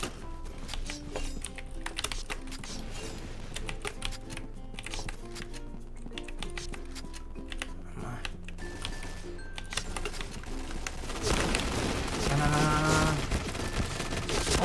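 Rapid continuous Gatling gun fire rattles in a video game, a sustained mechanical barrage with game effects and a louder burst near the end.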